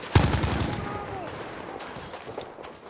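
A loud FG-42 rifle shot opens a video game skirmish, cracking sharply near the start and then trailing into a fading rumble with scattered distant pops beneath commentator talk.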